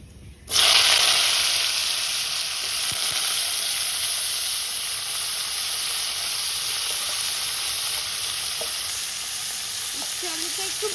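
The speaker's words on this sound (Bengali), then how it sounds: "দিয়ে দিচ্ছি জিরে ফোড়ন।" Cumin seeds tempering in hot oil in a home kitchen, a sudden loud sizzle bursting in as they hit the pan, then a steady, dense crackling hiss that holds for several seconds with occasional stirring.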